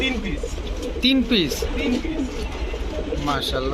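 Giribaj high flyers, racers and fancy pigeons in a pigeon shop give repeated soft, throaty coos close by, blending with people talking.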